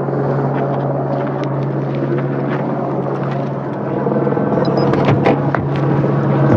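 A police helicopter drones steadily overhead throughout, a loud continuous rotor hum with faint bursts of outdoor noise layered on top.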